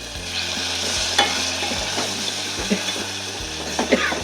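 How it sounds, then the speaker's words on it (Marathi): Masala for Kolhapuri chicken rassa fries in oil, a soft, steady sizzle broken by regular scraping strokes of a spoon stirring the pan, close and without talk. "चांगला तेल सुटेपर्यंत मसाला भाजायचा"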